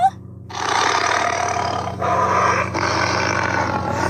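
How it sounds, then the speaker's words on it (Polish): A tiger roars in a forest, a loud, sustained, raspy roar that starts after a short quiet moment and rolls on with brief dips in intensity, with no talk over it. "Tygrys, ale w lesie?"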